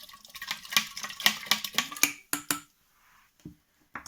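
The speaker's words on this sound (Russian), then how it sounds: "Хорошенько перемешиваем." A spoon clinks repeatedly against a glass jar in a quick rhythm while stirring honey into a hop sourdough starter, then slows to a few scattered taps with pauses.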